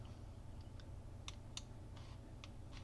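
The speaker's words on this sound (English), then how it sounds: "And I click Save" Several faint, scattered mouse and keyboard clicks at a computer, quiet and close over a low steady hum, with no talking.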